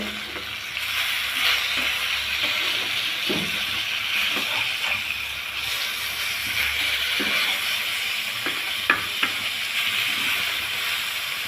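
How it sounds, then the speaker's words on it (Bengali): Rohu fish pieces, freshly flipped one by one, sizzle in hot soybean oil in a wok: a continuous close frying hiss broken by scattered soft clicks and taps of a utensil. "এখন আমি মাছগুলো উল্টে দিব এক এক করে"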